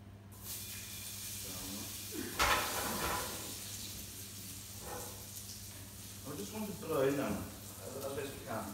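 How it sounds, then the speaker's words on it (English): A steady sizzling hiss of potatoes frying in a pan, with occasional clatters and stirring sounds and faint talking in the background. "Potatoes in the frying pan, I'm going to get them nice and brown"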